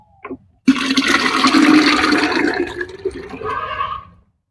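About ten litres of water pours into a half drum in one steady, loud rushing gush lasting a few seconds, then tapers off, with a brief knock just before it begins.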